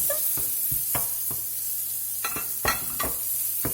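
Shallot frying in butter in a pan gives a steady sizzle, with several sharp utensil scrapes and taps from stirring up close.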